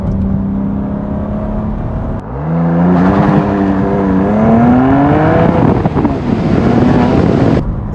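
A 2020 BMW M2 CS in second gear on a wet road with cold tyres, its engine note rising steadily as it accelerates, with wind rush and road noise close by throughout.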